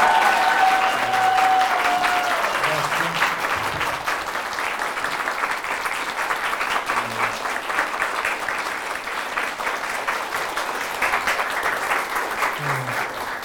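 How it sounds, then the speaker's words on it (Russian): Sustained, enthusiastic applause from an audience welcoming artist Nikas Safronov to a master class: dense, steady clapping that holds evenly for over thirteen seconds, with brief murmurs underneath. "бурные аплодисменты"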